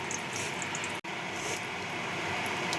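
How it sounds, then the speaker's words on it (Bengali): Cumin seeds sizzle in hot oil in a wok, a steady bright crackling hiss that holds throughout, with a brief dropout near the start. "জিরে ফোড়ন দিলাম।"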